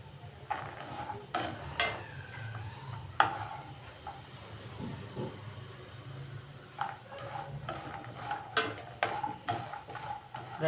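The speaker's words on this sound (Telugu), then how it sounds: "మనకి గోల్డ్ కలర్లోకి వచ్చేదాకా మనం ఇట్లా వేయించుకోవాలి" Soya chunks frying in a pan until golden, soft sizzling with intermittent clinks and scrapes of a spoon stirring against the pan, close and fairly quiet, with no voices.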